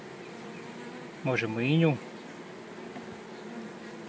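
Honeybees on a hive frame beside a ripe queen cell give a brief, loud, tonal buzzing burst lasting under a second, over a steady faint hum, with a short spoken remark nearby.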